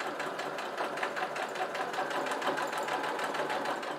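Steady close whir and rapid rhythmic needle chatter of a sewing machine running a long straight stitch, length 3.5, on a fabric napkin holder, continuous for several seconds.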